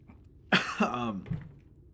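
A single sharp cough burst followed by a rougher throat-clearing cough, close and loud, from someone who has just breathed in powdered Creole seasoning.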